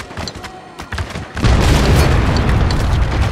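Distant gunfire and chatter in Spec Ops: The Line give way to a loud mortar explosion about a second and a half in. A heavy, rumbling roar then sustains to the end.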